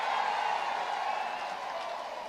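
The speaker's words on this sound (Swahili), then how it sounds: "Simu pigie Rais William Ruto makofi." Crowd at a political rally in Meru clapping for President William Ruto, a continuous, fairly distant roar of applause holding steady and easing slightly at the close.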